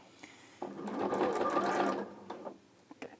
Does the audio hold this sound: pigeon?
no